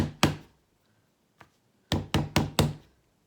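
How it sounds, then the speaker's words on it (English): Air-dry clay is banged on a hard surface to shape a roof, giving a loud thud, a faint tap, then four quick heavy thumps in a row. "bang it here to try and get a roof shape"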